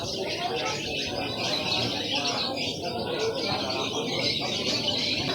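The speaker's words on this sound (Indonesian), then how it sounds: "Ramai sekali suara burung-burung ya" A dense chorus of many birds squawking, chirping and calling at once in a bird market, loud and continuous, with faint voices mixed in.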